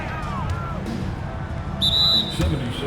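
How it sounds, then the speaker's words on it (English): A referee's whistle in the basketball video game NBA 2K25 shrills out once, short and clear, over a steady arena crowd murmur and the thud of the court, with a second brief chirp just after. "And the whistle blows."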